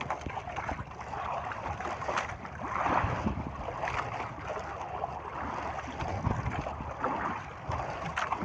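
Choppy sea waves wash and slap around a small boat, a continuous rushing splash mixed with wind noise, with no talk heard.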